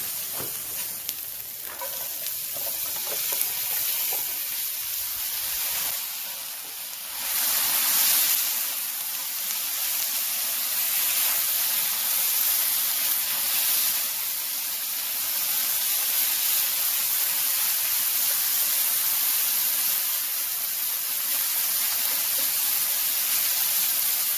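Potatoes and onion sizzle steadily in a cast iron pan over an outdoor grill, a continuous bright frying hiss that swells briefly as the potatoes go in, with no talking.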